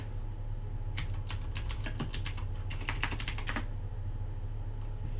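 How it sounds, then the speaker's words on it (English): Keystrokes on a computer keyboard while entering a command in a terminal, a quick irregular run of crisp clicks close to the mic, steady over a low hum and then stopping partway through. "So now we should just be able to type node."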